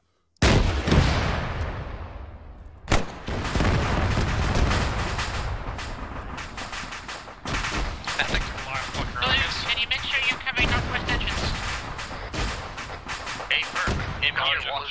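Squad gameplay: a loud rocket-launcher blast opens the clip, then a dense, continuous stream of rapid gunfire and sharp cracks, some near and some distant, with voices underneath.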